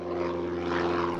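A rented propeller plane flies steadily, its engine drone close and constant with a strong low hum and layered harmonics throughout, no talk over it.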